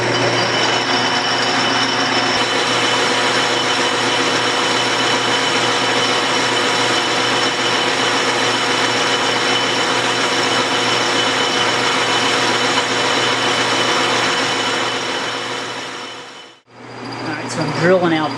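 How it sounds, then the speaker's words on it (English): A drill bores steadily into the back of a soft steel arbor press handle made from an old drive axle, a loud continuous whirring grind that runs for about sixteen seconds before cutting out abruptly, then briefly resumes. "So I'm drilling out the back of this"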